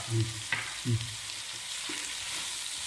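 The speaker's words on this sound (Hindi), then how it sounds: "इसको हम 1 मिनट के लिए और भून लेंगे।" Capsicum, carrot and pizza masala fry in a pan with a steady, soft sizzle, broken early by a few low clunks of stirring.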